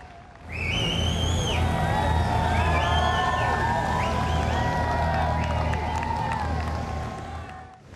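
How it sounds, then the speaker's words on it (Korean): A large crowd outside Buckingham Palace applauds as the Queen's coffin arrives, a steady roar of clapping and murmuring at a distance, with shrill whistles and high calls rising above it. "70년을 제위한 여왕이 거주했던 버킹엄궁에 도착하자 박수가 터져 나옵니다"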